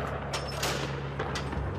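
Gunfire on the front line at Raqqa, Syria, a steady stream of shots and short bursts, some close and sharp, over constant background noise and a low hum.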